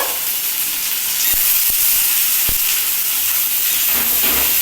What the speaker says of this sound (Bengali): নুন হলুদ দিয়ে এটাকে ভালো করে ভেজে নিতে হবে